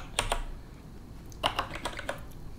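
Short runs of computer keyboard keystrokes from a terminal command being typed on Ubuntu, a couple of clicks first, then a quicker cluster after a pause, close and fairly quiet with no talking.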